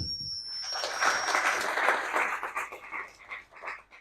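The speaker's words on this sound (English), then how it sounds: "Round of applause." Applause from an audience at a brokerage services event, swelling in quickly and holding as a dense, steady patter of many hands, then thinning and trailing off toward the end.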